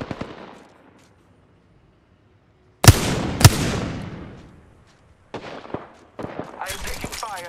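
Sharp gunshots in Apex Legends Arenas: two loud close cracks with ringing decay after a silent pause, then a few scattered shots and a denser burst of rapid fire at the end.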